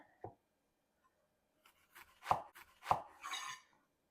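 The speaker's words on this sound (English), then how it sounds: "So we're going to cut it in quarters." A knife cutting through an onion into quarters on a board: a single faint cut, a pause, then several close, crisp chops and a scraping slice.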